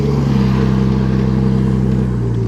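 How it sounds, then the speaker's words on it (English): A car engine idles steadily with a newly installed turbo and a stock dump pipe on a VL, a continuous low drone with a strong harmonic hum and no clear turbo whistle, close and fairly loud throughout. "Not a lot of turbo noise yet."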